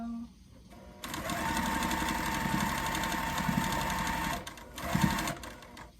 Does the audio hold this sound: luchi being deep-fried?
no